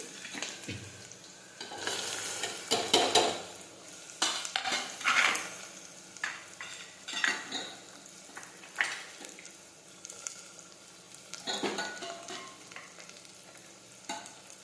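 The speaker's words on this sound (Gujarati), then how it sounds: "હવે આપણું તેલ છે તે ગરમ થઈ ગયું છે હવે આપણે તેમાં રાઈ અને જીરું નાખી દઈશું" Mustard seeds and cumin, then chopped bottle gourd, sizzle and fry in hot oil while a spoon stirs the pan, with irregular crackling and scraping that stays close and moderately loud, with no talking.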